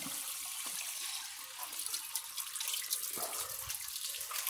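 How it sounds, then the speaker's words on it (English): Water runs steadily into the bowl of a Kohler toilet during flush testing, a continuous hissing rush, quiet and unbroken throughout. "I'll let some water into the bowl for the next test."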